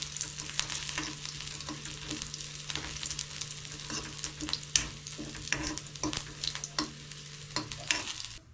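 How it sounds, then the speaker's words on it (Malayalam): Onion and curry leaves sizzle steadily in hot oil for a kerala-style varutharacha koorka curry, with repeated scraping stirs of a spoon against the pan over a constant low hum. "ഉള്ളിയും കറിവേപ്പില ഇട്ടൊന്ന് ജസ്റ്റ് ഇളക്കി കൊടുക്കുക"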